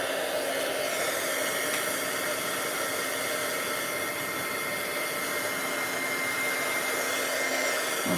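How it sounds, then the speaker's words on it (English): A heat gun blows a steady, loud whooshing roar over a wet paper craft project, a continuous close hum that holds evenly from start to finish with no talk. "I'll hit it with my heat gun just to speed the process up"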